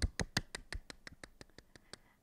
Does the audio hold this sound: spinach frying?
no